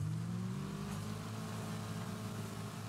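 Car engine in the racing game Wreckfest, likely front-engined with front-wheel drive, holding a steady loud drone with a rising tone as it revs, continuous and close throughout without talk.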